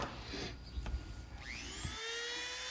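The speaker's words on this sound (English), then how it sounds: "Today I'm using an electric sharpener that I've used for several years" An electric sharpener grinds a chainsaw chain with a high whining whir that rises in pitch as the wheel spins up, faint and close, with brief contact scrapes.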